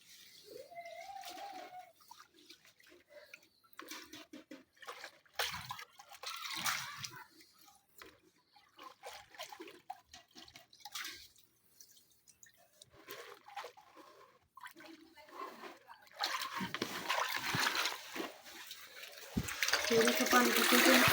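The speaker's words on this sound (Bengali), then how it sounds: "এখন এই দেখো এই জায়গায় আমি চালগুলো নিচ্ছি ধুয়ে ভালোভাবে।" Soaked rice being washed in water by hand for making winter pitha, with trickles, drips and splashes of water coming and going, louder toward the end, while a person talks over much of it.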